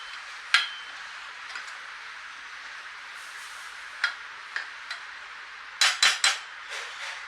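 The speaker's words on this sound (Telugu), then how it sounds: "మసాలా వేసుకుని చక్కగా గ్రేవీని విధంగా కలిపేసుకోవాలండి" A metal spoon scraping and clinking against a pan while masala is stirred into a fish curry gravy, with scattered taps and a quick cluster of knocks near the end over a steady low hiss.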